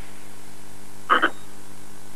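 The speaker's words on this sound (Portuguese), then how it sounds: "O sapo é rápido até dizer chega." A frog in a TV advert gives one brief, bright double croak, close and clear over a faint hiss, with no voices at that moment.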